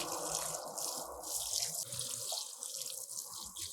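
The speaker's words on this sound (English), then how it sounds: "So let's water it with this orange concoction" A tomato plant is watered with an orange water mixture, a steady close splashing pour of liquid that runs without a break.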